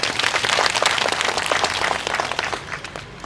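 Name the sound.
audience applause at a launch event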